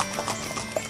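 Hooves of a Mangalarga Marchador horse clip-clop in a quick, uneven rhythm on a ride through the Mantiqueira mountains, several soft strikes within a second against a steady background hiss.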